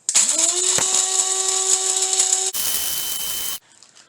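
Electric blender grinding dried onions into onion powder: a loud, steady high-pitched motor whine with a rising start. The pitch shifts partway as the grinding changes, then cuts off abruptly, leaving a quiet hum.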